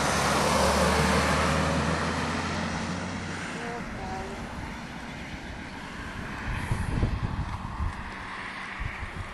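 Broad, steady roar of cars passing along a road behind a countryside walk in the New Forest, loud at first and then easing, with wind noise and a voice speaking.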